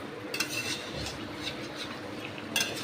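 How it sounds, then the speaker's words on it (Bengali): Chicken and potato pieces are stirred and fried in a pan, with soft, steady scraping and light clinks under a constant background hiss, close but fairly quiet. "এবার আমি এটাকে আরও অনেকক্ষণ খুব ভালো করে মাংসটা কষিয়ে নেব"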